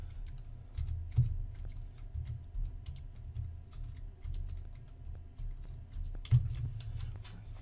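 Quick, irregular clicking of computer keys typing in a zero value, close up and fairly quiet over a low steady hum, with a couple of sharper key taps standing out.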